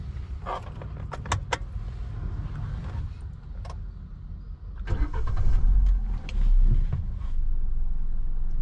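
A CNG-fitted 2019 Hyundai Verna 1.4 engine cranks on petrol and turns over, then settles into a steady idle, with a few clicks and rattles from inside the vehicle earlier on.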